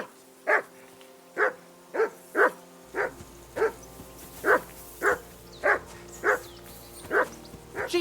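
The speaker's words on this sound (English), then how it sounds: "Jesus, Henry, that barking's driving me nuts." A dog barks in Kingdom Come Deliverance 2, a dozen sharp single barks at a steady rhythm about every half second to second, fairly close with a low hum underneath and no talking.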